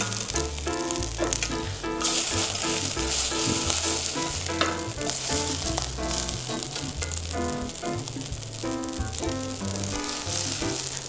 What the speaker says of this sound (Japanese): やっぱり焦げ目つけるのにはじっと火に直火でこう当てとくことが大事なので、このまま待っとけばいいです